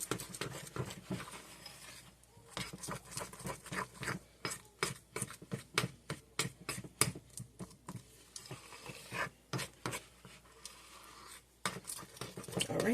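Buttermilk icing is whisked in a bowl for a cinnamon crunch loaf, with quick rhythmic scraping and tapping strokes that come in bursts, close and fairly quiet.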